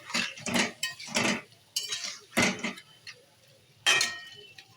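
Soybean chunks and potatoes are stir-fried in oil in a pan as a utensil scrapes and clinks against the metal in irregular strokes, some sharp, over a soft sizzle.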